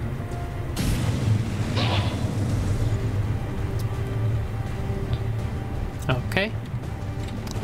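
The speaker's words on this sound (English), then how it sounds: "Let's try the flamethrower." Flamethrower attack in XCOM 2, a sustained roaring whoosh of fire with crackling bursts and a few sharper hits, loud and continuous over in-game ambience, with a person talking over it.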